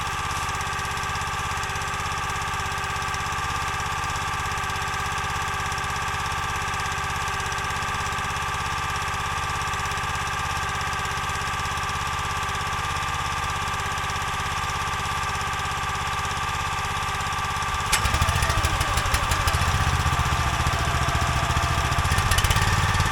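A County Line 25-ton log splitter's small gas engine runs steadily as it warms up, a loud, even drone that turns rougher and busier near the end.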